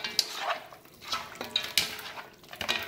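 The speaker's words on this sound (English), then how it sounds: "Just go ahead and mix that together." Goat meat being mixed with epis marinade in a bowl, with close wet squelching and soft clinks of utensil against the dish in irregular bursts.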